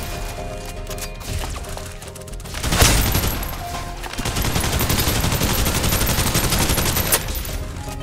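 Gunfire in the shooter game Snowbreak: Containment Zone, rapid bursts crackling loudly and steadily over a dense game mix, building into sustained suppressive fire during the second half.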